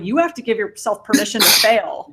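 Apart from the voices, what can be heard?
sneeze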